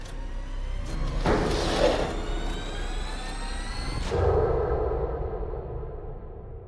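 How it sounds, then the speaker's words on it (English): A glass door is pushed open at a cramped nail salon, giving a loud sliding whoosh that lasts a few seconds before fading into a softer, quieter tail. "I pushed the glass door open,"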